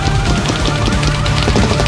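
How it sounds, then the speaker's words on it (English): Sustained automatic gunfire from a war setting, a dense, continuous rattle of rapid shots that stays loud and close throughout with no talking. "I unleashed a barrage of gunfire, cutting down the enemy soldier."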